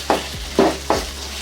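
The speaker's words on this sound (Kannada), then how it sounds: "ಇದನ್ನಿಷ್ಟು ಹಾಕಿ ಚೆನ್ನಾಗಿ ಈರುಳ್ಳಿ ಸ್ವಲ್ಪ ಫ್ರೈ ಆಗೋ ಗಂಟ ಹುರ್ಕೋಬೇಕು." Chopped onion frying in a pan for cabbage palya, a close, loud sizzle with three quick stirring scrapes over a low steady hum.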